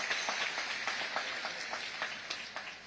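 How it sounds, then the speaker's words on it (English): An audience at a presidential investors' conference applauds, a steady patter of many hands clapping at moderate distance, fairly even in rhythm and fading slightly toward the end, with no voices over it. "allow me to start my speech by asking all of us to put our hands together and clap for you"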